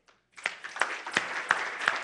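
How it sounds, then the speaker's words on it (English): An audience claps after a presentation, starting sparse and then swelling into steady applause with a few sharper, louder claps standing out. "That was a better applause."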